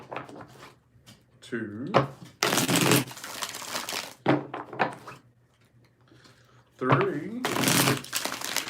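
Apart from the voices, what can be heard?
shuffling tarot cards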